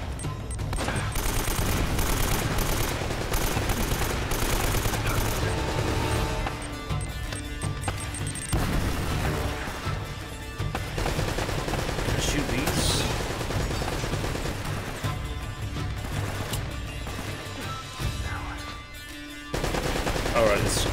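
Heavy machine gun fire in Uncharted: Drake's Fortune, long loud sustained bursts of rapid automatic shots with brief pauses between volleys, dense and close, with game effects mixed in.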